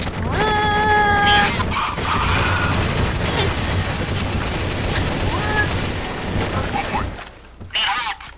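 Gunfire in the Counter-Strike: Source video game, a dense burst of shots and explosive bangs running continuously at close range, with brief tonal game sounds early on and a short pause before a final flurry near the end.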